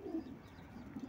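Pigeons coo softly on a rooftop loft, a faint, low, warbling call heard briefly and alone.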